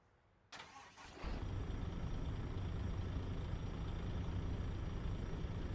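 A bus engine cranks briefly and then fires up, settling into a steady, loud idle that runs on without pause.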